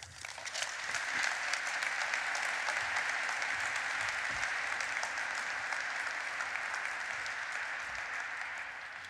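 An audience applauds to welcome the Acting Secretary of Energy at an energy policy conference. The clapping is dense and steady from a large crowd, holding at an even level for about nine seconds.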